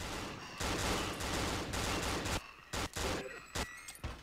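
Rapid gunfire from a gun in the horror video game Cry of Fear, dense loud bursts for over two seconds, then several short separate shots after brief pauses.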